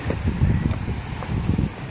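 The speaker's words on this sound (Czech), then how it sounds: "Dneska nám to pěkně fouká a pěkně se nám tu i voda rozbouřila." Strong wind buffets the microphone in rough, uneven gusts on the Croatian coast by choppy water, a loud low rumble with no voices.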